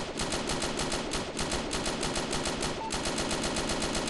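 A turret in the Melon Playground game fires a nonstop stream of rapid, evenly spaced shots, loud and dense throughout, with no talking.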